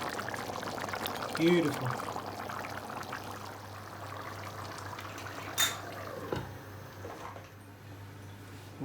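Mutton yukhni pilau rice bubbles in a pot with a soft, continuous liquid burble and hiss, while a person talks quietly over it.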